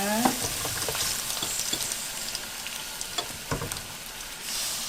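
Seasoning sizzles in a pan with sesame oil and garlic, a soft, steady frying hiss broken by the scrape and clack of stirring.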